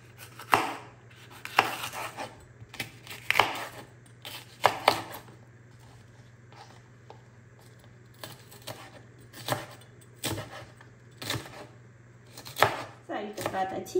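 Knife chopping greens on a board, irregular bursts of sharp close taps repeated across the span, with a faint steady hum beneath.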